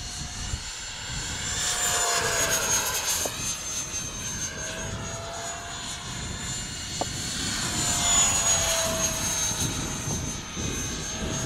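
A Viper Jet RC model with a 50mm electric ducted fan flies outdoors at a little over half throttle, giving a steady, high-pitched whine that rises and falls as it passes, with some wind buffeting.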